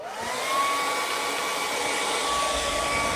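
A hair dryer blows steadily on wet paint on a canvas, a loud, close, continuous whooshing whine that holds an even pitch throughout with no voices.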